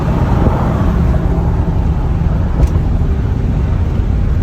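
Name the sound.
1999 Dodge Ram Van 1500 campervan driving on highway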